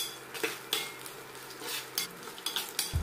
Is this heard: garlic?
yes